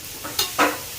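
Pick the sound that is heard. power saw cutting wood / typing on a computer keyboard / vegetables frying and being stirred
vegetables frying and being stirred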